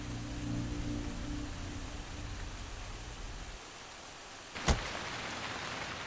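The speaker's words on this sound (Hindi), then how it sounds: "अरे बाप रे, इतनी बारिश, क्या हो गया?" Heavy rain pours steadily at night as a car stops on a road, a dense broadband wash with low rumble that thins midway, followed by one sharp clack like a door.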